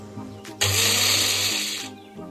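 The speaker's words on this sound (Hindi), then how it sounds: "इसको मिक्सी में ना ग्राइंड करते हैं फटाफट" An electric mixer grinder blitzes homemade body scrub ingredients in one short, loud burst of whirring motor noise lasting over a second, then winds down, with faint indoor background before and after.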